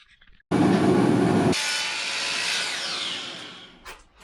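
A power saw cuts trim pieces for a bathroom in an off-grid Adirondacks build, starting abruptly as a loud, harsh whine that holds for several seconds, shifts in pitch partway through, then tails off. Close and heard alone.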